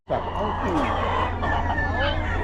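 Hen at a Filipino poultry sale, clucking and calling several times up close, with other chickens and people talking in the background throughout.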